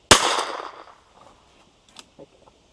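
A single loud, sharp revolver gunshot at an outdoor shooting range in Austin, Texas, cracking close by and ringing off, followed by faint small clicks and handling noises.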